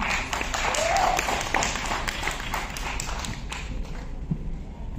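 A crowd at a Mumbai television serial launch event claps to welcome an actress, a steady wash of applause at moderate distance that thins toward the end, with voices mixed in.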